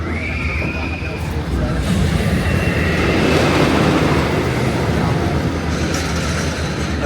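A roller coaster train at Alton Towers rumbles continuously in the distance under a dense, steady outdoor wash of noise, with a faint high squeal near the start.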